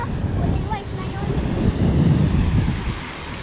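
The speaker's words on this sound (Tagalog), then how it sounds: "Ang lakas ng hangin, lumalakas ang ulan." Strong wind buffets the microphone outdoors in a continuous low roar with gusty surges, while a faint voice is heard briefly beneath it.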